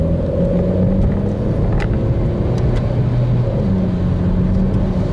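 Renault Clio 4 RS engine droning steadily while driving with the accelerator held down, a loud continuous cabin hum and rumble with a few faint clicks, no voices.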